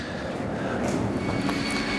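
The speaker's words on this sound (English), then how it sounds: "if you listen, you can quite often hear trains going past." A London Underground Central line train runs beneath a building, a low steady rumble held evenly throughout, heard indoors with no voices.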